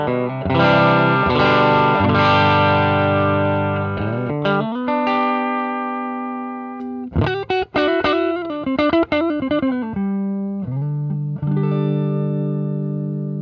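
Electric guitar played through a Marshall 20-watt mini Plexi combo amp set on the edge of breakup. Ringing chords and single notes are picked out with pauses between phrases, close and clear, with no voices.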